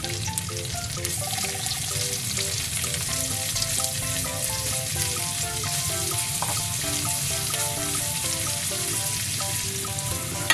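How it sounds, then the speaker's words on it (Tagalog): Ginger and onion sauté over medium heat in a pan for a bitter melon and okra stir-fry, a loud, dense, unbroken sizzle lasting the whole stretch with a faint tonal hum in the background. "Okay na itong ginisa na paghalu-haluin ko na lahat."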